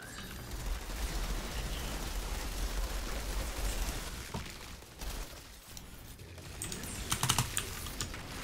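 Computer keyboard clatter of rapid key presses during an Outriders gaming session, a steady dense run of clicks with a louder, busier burst of keystrokes near the end.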